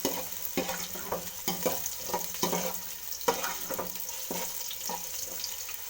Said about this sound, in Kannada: ಈರುಳ್ಳಿನ ಲೈಟಾಗಿ ಫ್ರೈ ಮಾಡ್ಕೊಳ್ಳೋಣ